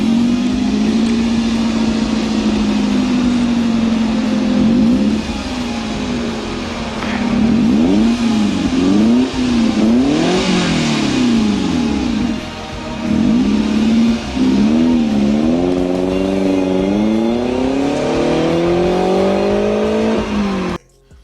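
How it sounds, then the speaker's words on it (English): Aftermarket Veilside exhaust on an MR2 Spyder revving repeatedly, the loud engine note climbing and falling in sharp bursts with a steady idle drone between, close and continuous with no talking. "this Veilside exhaust sounds great and it's wonderful"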